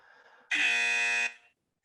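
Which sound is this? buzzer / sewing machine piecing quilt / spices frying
buzzer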